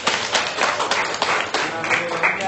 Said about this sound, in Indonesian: Oke, boleh ya, tepuk dulu.